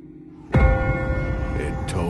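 A church bell in The Walking Dead game strikes a single loud, deep toll that rings on and decays, with a second strike beginning near the end.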